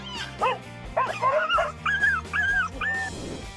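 A dog barks and yips in quick bursts, with high whimpering whines in between, close and loud, as it confronts a bull. A steady low tone runs underneath throughout.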